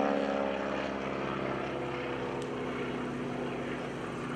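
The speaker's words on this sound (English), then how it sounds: "Turning the airplane around, bringing it back." A propeller airplane flies at the 2013 Greenwood Lake Airshow, its engine drone loud and steady throughout with a constant, slightly shifting tone as it turns around, heard alone.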